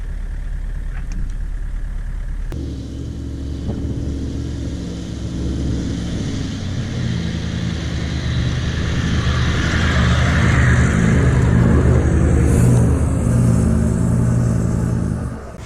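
A vehicle drives the French Line track, a steady engine and road rumble that builds slightly louder midway, with a sharp bump near the start and no talking.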